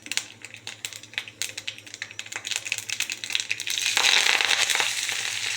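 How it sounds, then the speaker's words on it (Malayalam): Half a teaspoon of mustard seeds splutters in hot sunflower oil, with rapid close crackling pops that thicken into a dense, loud sizzling burst toward the end. "ഇതിലേക്ക് ഞാൻ ഒരു 1/2 ടീസ്പൂൺ കടുക് ഇടുക"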